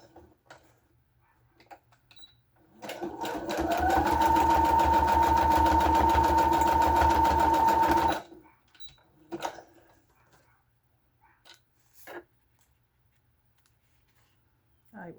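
A sewing machine stitches paper bellybands for a junk journal in one steady, loud whirring run of about five seconds, starting and stopping abruptly, with quiet handling noises and brief murmurs before and after.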